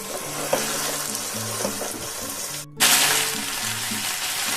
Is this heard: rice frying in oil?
yes